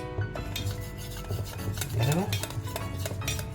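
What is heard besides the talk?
mixing water into batter to thicken it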